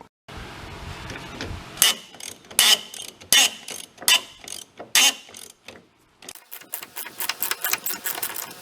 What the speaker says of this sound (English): let me get those bolts out